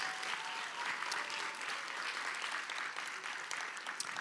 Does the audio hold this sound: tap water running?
no